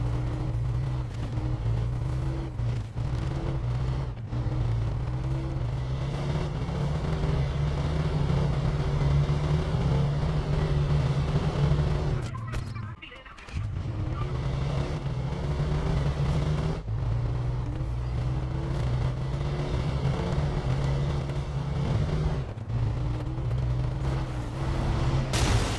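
A truck in the SnowRunner driving game rumbles with a steady low engine drone for most of the stretch, dipping briefly to near quiet midway before resuming.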